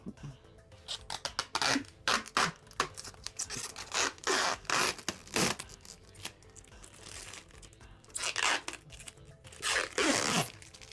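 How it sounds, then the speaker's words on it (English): Plastic protective film being peeled off the plexiglass top of a fight stick: repeated crinkling, tearing scratches in short bursts with brief pauses, close and fairly loud, with no talking. "I'm pulling the plastic film off"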